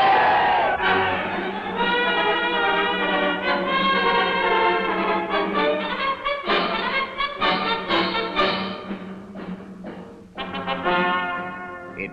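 A large crowd cheers and chants for Indonesian independence, hailing the Indonesian Republic with loud, sustained voices that rise and fall in waves and break into sharp bursts near the end.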